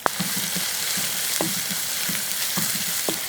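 Onions and curry leaves sizzle steadily in a hot pan, with a few sharp clinks of a spoon stirring now and then.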